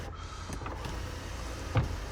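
Electric motor of a Skoda Kodiaq panoramic sunroof straining as the glass slides on dry, unlubricated rails after winter, a faint low whir with a brief louder clunk near the end.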